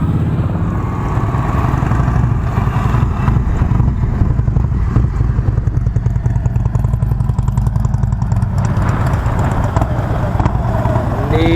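A motorcycle engine chugs steadily and close during a slow U-turn, its throttle lifting and easing while the bike keeps rolling, loud and continuous without pause.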